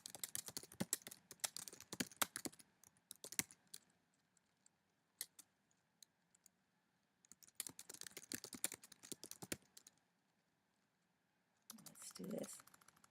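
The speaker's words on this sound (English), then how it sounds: "So let's go ahead and type my content first." Bursts of typing on a computer keyboard while entering HTML content, quick clattering key presses in clusters with short pauses and a final burst near the end, fairly close and moderately quiet.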